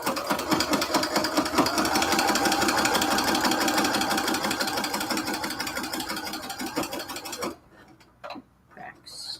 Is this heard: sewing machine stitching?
yes